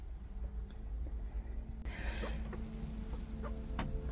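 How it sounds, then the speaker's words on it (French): Hens cluck softly in short scattered notes over a steady low hum, with a brief brighter rustle partway through. "Ils sont pas bien là les poules?"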